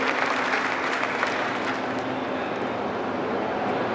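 Steady, dense applause rolls from a crowd at an oath ceremony for newly elected district officials as the election officer is welcomed. It holds an even, fairly loud wash with no voices rising above it.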